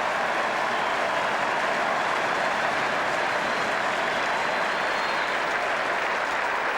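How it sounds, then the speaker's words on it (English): Crowd at Adelaide Oval during the final day of a Sheffield Shield cricket match roars in a loud, sustained cheer, a dense unbroken wall of noise across the whole stretch. "That gives you some idea of the crowd here at the Adelaide Oval."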